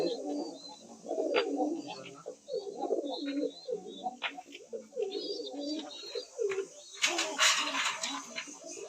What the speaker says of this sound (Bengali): এইখানে এক জোড়া কবুতর সাদা বোম্বাই